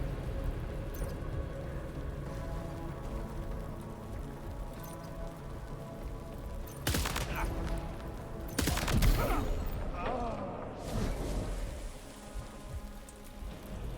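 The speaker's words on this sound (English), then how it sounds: "The enemy heard your gunshot." Gunfire rings out in a PS5 video game, a couple of loud sharp bursts midway over a constant hissing rain-like background.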